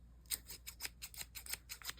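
Pink scissors snip paper for an art journal in a quick series of about ten close, crisp cuts, faint and with no talking.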